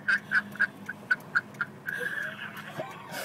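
A man does a Donald Duck voice imitation, a string of short quacky, nasal syllables in an even rhythm, then a longer buzzy phrase, close and clear, while singing a gospel song.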